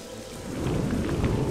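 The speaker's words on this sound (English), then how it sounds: "Plus it's all icky and rainy here and I don't particularly like it." Steady rain and a low rumble of thunder fill a stormy outdoor scene in the video game Morrowind, an even wash of sound with no talk.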